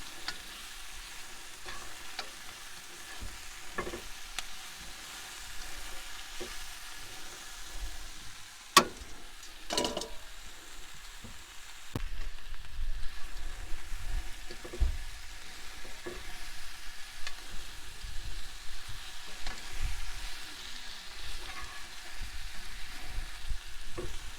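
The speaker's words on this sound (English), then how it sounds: "Stir them around, keep them frying up." A low, steady sizzle of vegetables frying in a pan at a campsite, with occasional clinks and scrapes of stirring, quiet and close.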